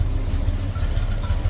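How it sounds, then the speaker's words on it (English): A swapped car engine with a big cam idles close by, a loud, lopey low rumble pulsing unevenly with no talking over it. "Nice big cam. Nice big rumble."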